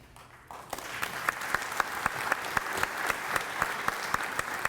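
Audience applause fills a room at a Rotary Club of Little Rock luncheon: steady, dense clapping from many hands. Sharper individual claps punctuate it at a regular rhythm, sustained throughout after a brief quieter start.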